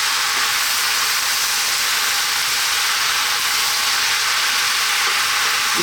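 Vegetable curry with cumin, coriander and fresh chili sizzling in a pan as it is stirred, a dense steady hiss of frying throughout, close and continuous with no talking.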